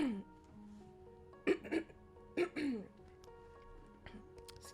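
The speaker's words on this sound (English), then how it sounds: "Excuse me, I think I have the hiccups." Two sharp hiccup-like bursts from a person come a second apart mid-stretch, close and fairly loud, with a few softer throat sounds after them over a quiet, steady background tone.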